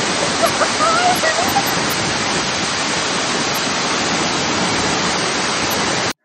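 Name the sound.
70m waterfall in Chiang Rai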